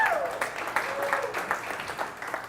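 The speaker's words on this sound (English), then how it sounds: "Round of applause for you." An audience at an entrepreneurship talk claps, a dense, steady patter of many hands throughout, fairly close and moderately loud with a faint voice underneath.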